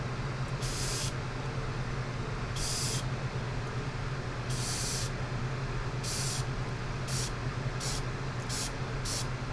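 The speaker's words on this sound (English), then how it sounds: "When I spray, I always like to kind of spray from the bottom up" Primer spray can misting Gundam LEO model parts in short hissing bursts, about eight sprays of roughly half a second to a second each, close and sharp over a constant low background hum.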